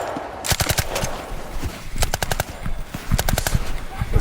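Rapid bursts of gunfire from a Sandhurst military training exercise, with repeated clusters of sharp, close shots fired in quick succession over continuous outdoor background noise.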